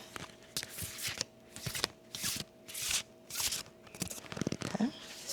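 Cards being shuffled up close during a card reading, a run of riffling and sliding bursts with soft taps and rustles between, fairly quiet.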